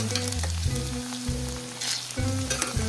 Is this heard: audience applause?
no